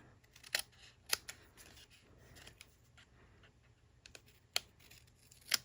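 Scissors snip through card paper while a greeting card is trimmed, giving a handful of sharp, close cuts in uneven bursts with quiet pauses between them.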